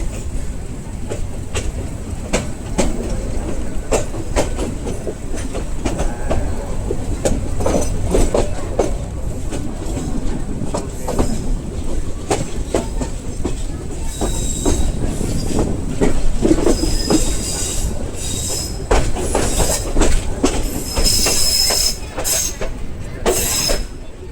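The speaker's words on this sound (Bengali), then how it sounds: "সামনে 3 নাম্বার লাইনে গাড়িটি যাচ্ছে" A train runs along line 3 at a Bangladeshi railway station, with a steady loud rumble, wheel clatter and bursts of high metallic squeal toward the end.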